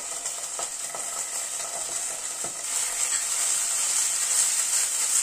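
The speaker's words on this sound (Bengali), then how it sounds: "টমেটো কেচাপটা দিয়ে একটু পেঁয়াজের সাথে মিশিয়ে দিচ্ছি।" Tomato ketchup being stirred into onions in a hot pan for potato wedges, a steady close sizzle and frying hiss with a few soft scraping stir strokes, growing slightly louder toward the end.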